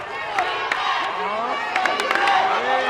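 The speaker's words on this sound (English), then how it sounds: "The Union faithful making some noise now" Home fans of Union CC make noise at a Region XIX Division III college basketball championship game against Middlesex CC. The crowd's cheering and clapping sit under a commentator who talks throughout.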